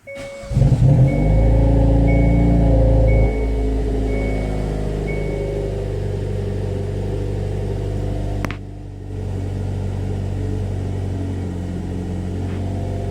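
A car with a dead key fob battery cranks and fires up, its engine starting with a brief whir and a loud catch, then settling into a steady idle rumble with warning chimes, a click, and a later drop in pitch.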